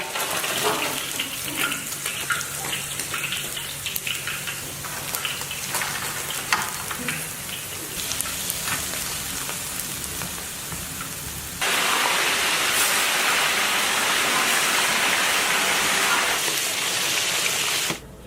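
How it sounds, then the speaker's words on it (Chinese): Pieces of fish deep-frying in hot oil for a second fry make a steady, close crackling hiss that jumps noticeably louder and denser partway through, with no talking. "把鱼肉炸黄炸干就可以出锅了"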